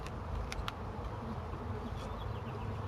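Italian honey bees hum around a spring bee feeder, a steady close swarm drone with a few louder passes near the start, no voices.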